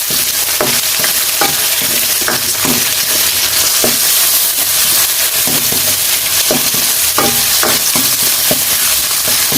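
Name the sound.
tomatoes added to a sizzling pan for sinigang corned beef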